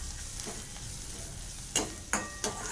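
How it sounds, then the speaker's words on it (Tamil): Onions and curry leaves sauté in a pan with a soft, continuous sizzle, broken by three sharp spatula clinks near the end. "இது வந்து கோல்டன் கலரில் வர வரைக்கும் நல்லா வெங்காயத்தை வதக்கிடுவோம்"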